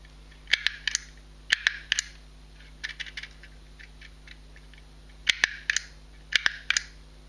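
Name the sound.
clicks of a mini label maker handle pressed to make spaces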